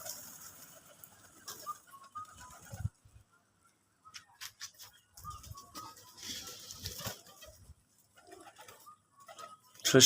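Domestic pigeons cooing softly at a farm, with low murmuring coos, wing flutters and light pattering among scattered faint background noise.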